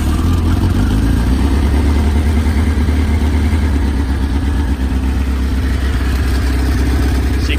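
Kawasaki GPZ 1100 fuel-injected café racer motorcycle engine running at a steady idle, a continuous low rumble held near and loud throughout with no voices.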